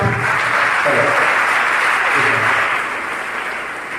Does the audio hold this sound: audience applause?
yes